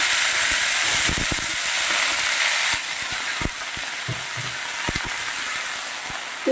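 Cut and washed cabbage dropped into hot oil already spiced with dried chillies, fenugreek and a bay leaf, giving a loud, close, continuous hiss and sizzle, with scattered clicks and scrapes of stirring beneath.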